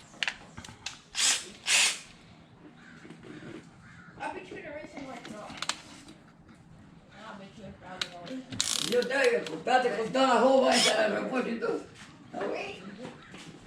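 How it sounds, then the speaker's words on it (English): A cordless Ryobi drill works a size 1 screw extractor into a broken valve cover bolt on a 2007 BMW R1200GSA, whirring and ratcheting in bursts with people talking over it. "This is just a Home Depot Ryobi screw extractor"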